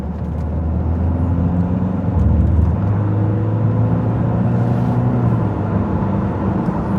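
A Citroen C5 X7 HDi diesel car accelerating hard up to 60 mph, a steady, loud engine drone with rising tones as the revs climb, heard from inside the car without voices.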